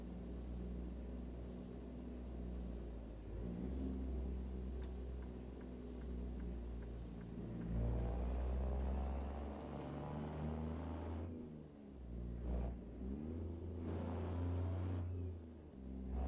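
A heavy truck in a trucking simulator game rumbles steadily under a low engine drone, with hissing air-brake releases and shifts in engine pitch throughout, fairly quiet and without speech.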